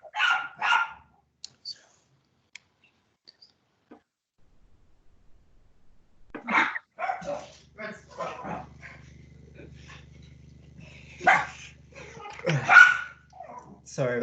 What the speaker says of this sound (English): Dog goes crazy.